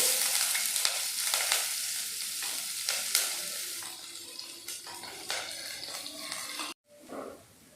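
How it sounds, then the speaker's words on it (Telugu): Onions and green chillies frying in hot oil, a steady broadband sizzle with intermittent stirring scrapes, closely miked, cutting out abruptly near the end before a brief faint return. "వీటిని మనము ఈ కాగుతున్న నూనెలో వేసేద్దామండి"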